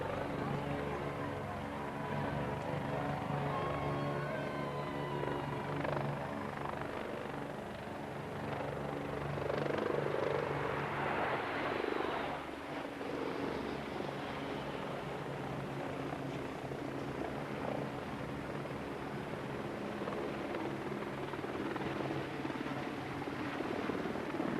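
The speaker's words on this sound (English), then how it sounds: "The Lynx, Wasp, Sea King, Scout and Gazelle helicopters of the Navy and Marines flying in formation over Plymouth city centre" Lynx, Wasp, Sea King, Scout and Gazelle military helicopters fly in formation over Plymouth city centre, a distant, steady, rumbling rotor chop that swells slightly in the middle and stays continuous throughout.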